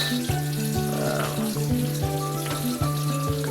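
Onions and garlic fry in a pan for sotanghon with patola, giving a loud, dense sizzle broken by rhythmic scraping or stirring knocks, with no talk.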